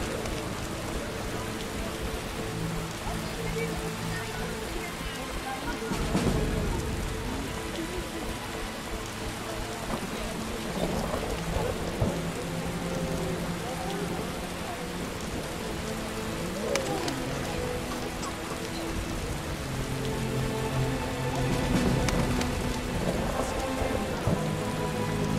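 Heavy rain pours steadily in the video game The Witcher Enhanced Edition, drumming on surfaces, with occasional low rumbles like distant thunder.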